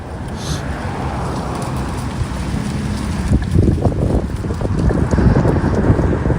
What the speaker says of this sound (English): It's got windy out here today.